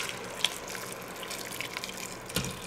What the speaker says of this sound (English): So I'm going to put a little bit more of the hot water in here.